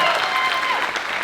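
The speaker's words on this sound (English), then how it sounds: "You can clap for that." An audience claps at a talk, a brief, dense burst of applause that sounds close and steady, with some voices mixed in.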